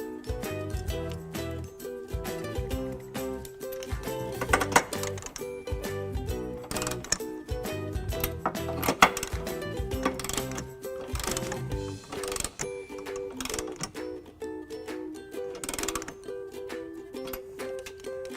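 U-bolt nuts on a trailer hitch for a 2015 Honda Accord are tightened, giving rapid, ratcheting mechanical clicks in uneven bursts with sharper metallic knocks mixed in.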